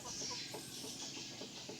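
A fighting rooster of the spur-fighting type clucks in a series of short, soft calls over steady background noise, fairly close and moderately quiet, with no voices.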